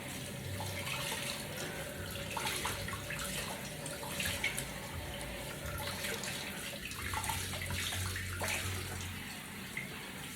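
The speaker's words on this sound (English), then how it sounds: "So let me wet my face." Tap water runs steadily into a sink as someone wets their face during a facial routine, a continuous close hiss and splash with small shifts as hands move through the stream; no voices.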